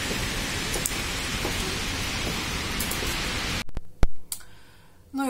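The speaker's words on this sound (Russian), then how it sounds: "Боже, дождь такой, кошмар." Heavy rain pours down steadily and loudly outdoors for several seconds, then cuts off abruptly into a few sharp knocks and rustles.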